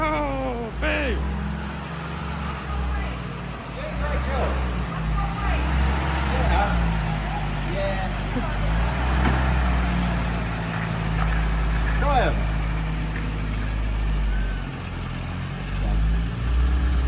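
A WW2 jeep engine runs after being cranked, a low steady rumble heard close while several people talk and react over it.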